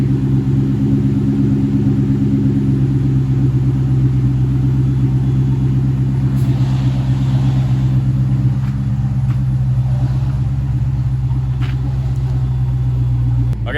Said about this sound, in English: So here's what the idle sounds like with the Bassani and a Bassani catback, and then it has a Bassani catted X-pipe.